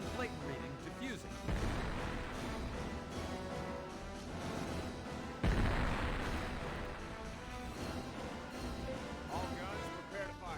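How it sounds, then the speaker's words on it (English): Explosions and artillery fire in the space battle game Infinite Space: heavy booming blasts hit around two seconds and again near five and a half, then rumble and crackle on under a dense layer of game noise and voices. "That explosion in the distance."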